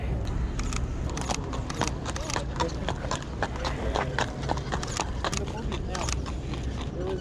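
Horses' hooves clip-clop in a steady rapid patter on the pavement of Central Park, New York, close and clear under busy crowd chatter, with an occasional faint snort.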